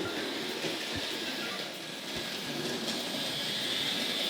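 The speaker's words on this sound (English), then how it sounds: "Now that little tank loco should make its way out." A small Hornby model tank locomotive runs steadily along track, giving a continuous whirring motor hum and faint rail rumble with occasional light clicks, close and with no talk.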